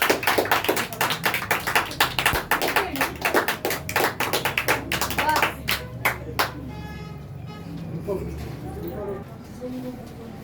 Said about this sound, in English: Give a huge round of applause for him.